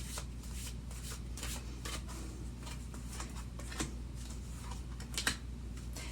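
Quick, papery riffling of tarot cards being shuffled, a steady run of soft slaps and flutters close by with a low hum underneath.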